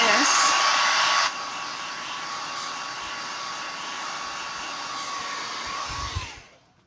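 A hair dryer blows on a Halloween house craft with a loud steady whoosh and a constant whine. It drops to a lower setting after a second, then switches off and winds down.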